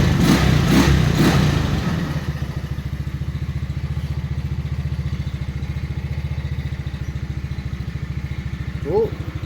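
A go-kart engine idles after a cold start, settling off its fast idle into a steady, close putter of rapid even pulses, with a brief louder noise at the start and a short blip near the end.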